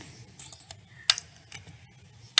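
Sparse, light keystrokes on a computer keyboard while a database query is entered, several separate clicks and taps spread across a quiet room background.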